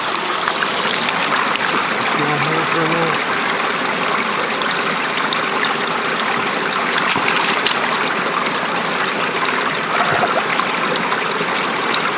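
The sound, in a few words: creek water flowing over rocks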